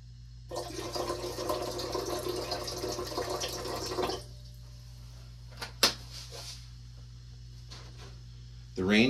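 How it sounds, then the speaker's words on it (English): Distilled water pouring into a silver nitrate solution to dilute it, a steady splashing stream for about four seconds, then quiet with a couple of small clinks and a short rustle near the end. "I'm going to dilute that with another 100 milliliters of distilled water."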